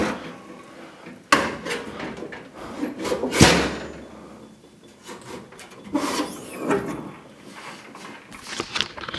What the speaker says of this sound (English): It's a 5-drawer tool chest.